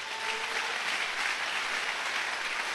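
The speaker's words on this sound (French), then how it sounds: "Acclamons le Seigneur pour cela." A church congregation applauds in steady, dense clapping that fills the space from start to finish, moderately loud and without voices over it.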